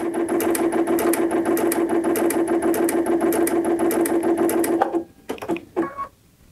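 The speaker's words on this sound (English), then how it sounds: "the aerial will actually stitch diagonally for you. It'll also sew to the left." A Baby Lock Aerial sewing machine stitches steadily with a fast, even mechanical whir and rhythmic needle clatter, loud and close, then stops near the end with a few short clicks.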